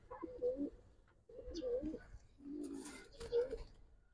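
A Giribaz pigeon coos close by in three rounded, repeated bursts with short pauses between them, clear and fairly loud.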